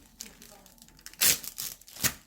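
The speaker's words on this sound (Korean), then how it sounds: "이걸 이제 또 비닐 윗부분을 팍 뜯어줄게요" The top of a plastic candy wrapper is torn open, giving light crinkling followed by two sharp, loud ripping bursts, close by, with a voice faintly present.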